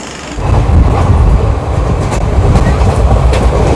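West Coast Superfast Express sleeper train pulling away from a station, heard from inside as a loud, close rumble of wheels with rhythmic clacking over the rails, building quickly and then holding steady.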